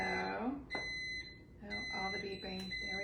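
Kitchen appliances beep repeatedly during a home cooking session with a slow cooker, sharp high electronic tones sounding in short bursts while a person talks over them.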